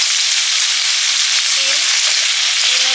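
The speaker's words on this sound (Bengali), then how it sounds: "আলু বেগুনটা ভেজে নিচ্ছি।" Loud, continuous hiss of potatoes and eggplant frying in oil in a pan, close up, with faint scraping as the pieces are moved, no voices.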